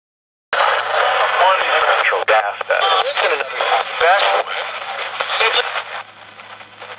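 Radio static hisses and warbles as the AM dial sweeps, with fragments of garbled broadcast voices flickering in and out, loud and continuous.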